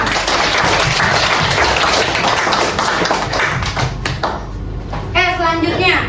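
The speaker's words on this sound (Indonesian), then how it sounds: "Beri tepuk tangan untuk kita semua." Schoolchildren in a classroom clap and tap together in a loud burst, which fades into scattered taps as a voice and other speech come through near the end.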